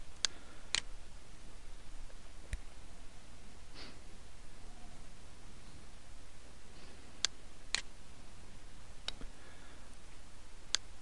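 Sharp, isolated mouse clicks, about eight of them, land at irregular intervals against a quiet room background.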